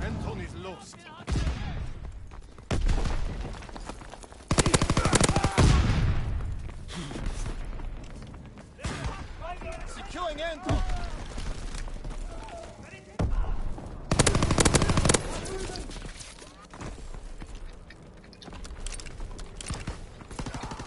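Machine gun fire rattles in a WW2 multiplayer shooter game with flag capture, coming in repeated loud bursts separated by short pauses, with players' voices in between.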